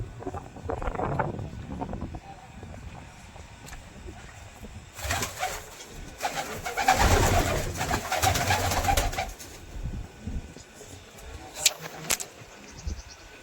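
Pigeons coo softly in low, rolling calls at a pigeon-flying competition, with occasional wing flutters and light wind noise around them.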